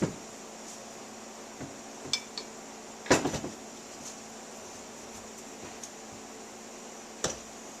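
KYB motorcycle fork tube parts slid apart, giving scattered light metallic clinks and taps up close, with one louder clatter midway and quiet pauses between.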